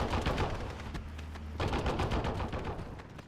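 Heavy .50 and .30 caliber machine guns in the Steel Division: Normandy 44 wargame rattle off dense, rapid bursts of automatic fire, loud and continuous with a brief lull mid-clip.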